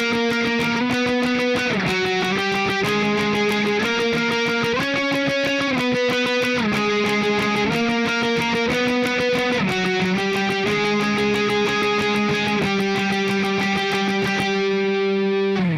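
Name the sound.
electric guitar octave swipes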